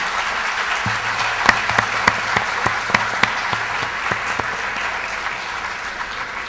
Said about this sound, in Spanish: los invitamos a brindarle un fuerte aplauso a los disertantes por esta segunda parte de la reflexión